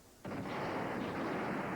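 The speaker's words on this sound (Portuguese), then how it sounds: "Agora você ouve com nitidez o barulho das explosões na capital do Iraque" Explosions over Baghdad, Iraq, carried on a live broadcast: a sudden loud onset followed by a dense, sustained rumbling roar of blasts that stays strong to the end, with no talk.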